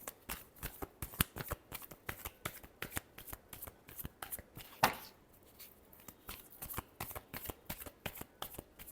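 Tarot cards are shuffled by hand at close range, with a quick run of crisp, evenly spaced riffling snaps and one louder slap near the middle. No one speaks.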